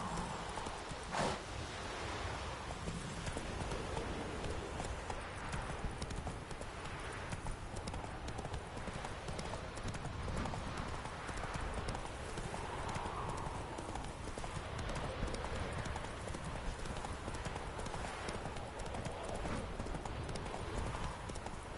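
Roach the horse's hooves pounding steadily in a video game, a continuous drumming clip-clop at a gallop, close and prominent over a broad wash of ambient noise, with no clear speech.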